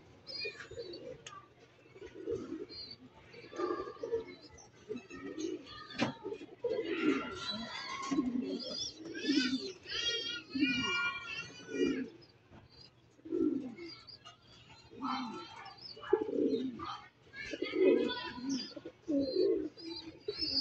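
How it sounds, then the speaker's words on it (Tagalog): A pigeon coos in repeated soft, throaty phrases close by, mixed with chirps and other birdsong over about twenty seconds, with faint background voices now and then. "Parang meron pa ulit tayong isang ibon na nandito."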